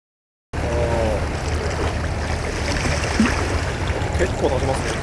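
Continuous splashing and churning water with a bubbly, frothy texture from a Supra 65PD fishing lure being pulled across the surface, throwing a wake; steady and close, with no voices over it.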